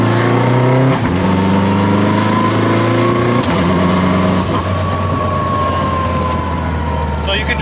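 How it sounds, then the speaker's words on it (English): A fully built Honda Element with a sequential gearbox pulls hard under throttle, its loud engine note climbing in pitch and dropping sharply at each clutchless upshift, several shifts in quick succession, close and continuous. "We'll do a little clutchless shifting here before I do a pull."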